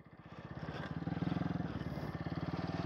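Pit bike engine held at full throttle, a loud, steady buzzing drone with a rapid firing pulse that holds and rises slightly in pitch across the whole stretch, close up with no talk.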